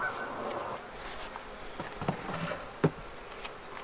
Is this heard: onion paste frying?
no